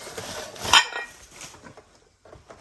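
A ceramic plate, a gift, is picked up and set down, giving one sharp clink near the start, then soft handling noises and faint rustling nearby.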